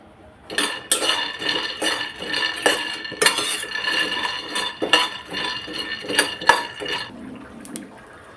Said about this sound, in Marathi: त्यासाठी मी एका कढईत 1 वाटी शेंगदाणे घेतले. ते आपण भाजून घेऊया.